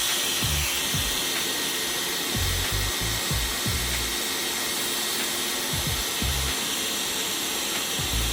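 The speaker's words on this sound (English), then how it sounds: "Use a hairdryer to slightly heat it" A hairdryer blows steadily to heat the glued Wi-Fi flex cable inside an iPhone 13 Pro housing during a repair, a loud continuous whooshing hum with a few faint knocks and bumps underneath.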